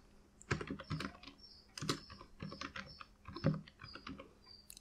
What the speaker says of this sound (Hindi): कुछ मैटर इधर टाइप कर लेता हूँ